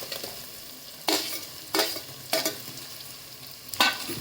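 Tomatoes are added to masala sizzling in a pan for a Maharashtrian prawn rice dish. A steady frying hiss is broken by four sharp, close scraping stirs at roughly even intervals.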